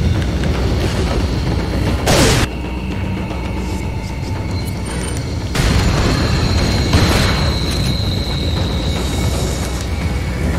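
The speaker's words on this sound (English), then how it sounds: "we are going to throw another grenade" A deep, loud boom from a grenade blast rolls through the video game Resident Evil 4. A second burst follows a few seconds later, both set over a constant dense rumble.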